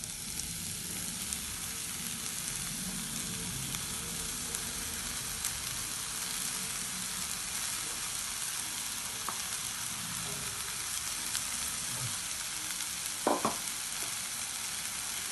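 A ground spice paste for a drumstick thoran fries in a pan with a steady low sizzle, stirred now and then, ending in a couple of sharp utensil clicks; no one talks.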